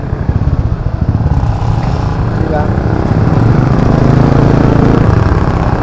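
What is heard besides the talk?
tricycle engine running during ride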